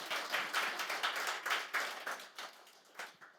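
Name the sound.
audience applause in church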